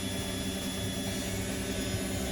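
An Electrolux EWF7555EQWA front-loading washing machine spins at its maximum 600 rpm, a steady, loud whirring hum with a constant mechanical whine and no pauses or voices.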